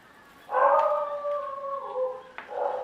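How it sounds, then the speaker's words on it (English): A dog lets out a drawn-out, howling bark, a sustained wavering call with a short second outburst at the end, fairly close against a quiet background. "Can you hear Molly barking"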